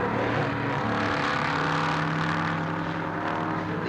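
1960s series production touring cars race at Warwick Farm Raceway, loud steady engine roar with cars passing close by, revving and shifting, alone without talk.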